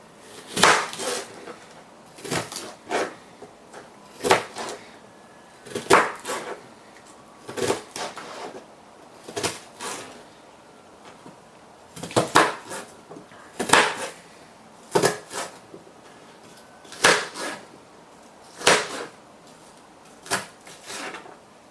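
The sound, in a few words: chopping peeled onion with a knife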